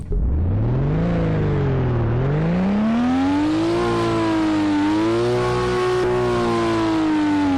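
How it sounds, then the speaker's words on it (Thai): A Nissan Skyline GT-R R32 engine in the game Driving Empire revs up hard, its pitch rising, dipping and climbing again in long sustained pulls, loud and continuous with a synthetic, game-like tone. "เดี๋ยวผมจะเร่งเครื่องให้ฟังนะครับ"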